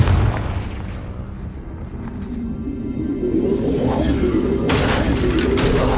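A Confringo blasting spell detonates in Hogwarts Legacy, a loud booming blast that rolls into a sustained low rumble, with a sharper crackling burst near the end.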